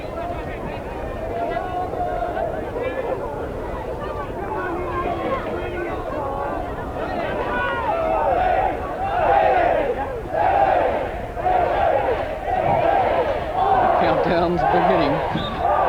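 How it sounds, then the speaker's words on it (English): A field hockey crowd at the 1982 Esanda World Men's Field Hockey Tournament final, Australia against India, chants and shouts in rising rhythmic waves near the end, with a commentator talking over the roar. "The crowd joining in with this Australian victory today and counting the seconds down"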